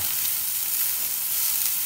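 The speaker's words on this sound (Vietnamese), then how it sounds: "rồi cho bột vô đơn giản rồi bỏ giá vô trước" Rice flour batter for bánh xèo sizzles steadily in a hot pan, a loud continuous frying hiss with no talking.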